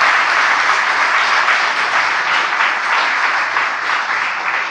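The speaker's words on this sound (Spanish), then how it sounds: "¿Cuántos le dan un aplauso al Señor?" Church congregation applauding during a Spanish-language sermon, a steady, dense wash of many hands clapping close and loud throughout, with no talk over it.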